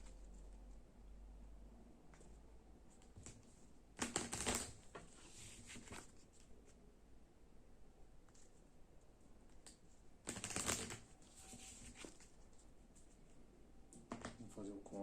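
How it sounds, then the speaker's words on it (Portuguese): Tarot major arcana cards are shuffled in two brisk, crisp rustling bursts separated by quieter stretches, with a few softer card handling sounds near the end. "Vou começar a embaralhar aqui os arcanos maiores."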